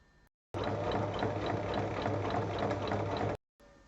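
A sewing machine runs in one steady burst of about three seconds, stitching a zipper face-down onto fabric for a handmade bag, its rapid needle chatter loud and close, bracketed by brief silence.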